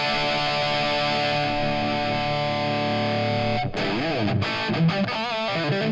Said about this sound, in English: I can use a rat distortion